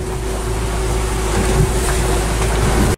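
Sailboat engine droning steadily while motoring at sea in the Mediterranean, a loud continuous low rumble with water rushing around the hull, close and unbroken.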